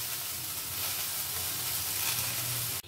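Greens added to a pan of fried garlic and lentil dumplings give a steady, close, loud sizzle with no talk, which cuts off abruptly at the end.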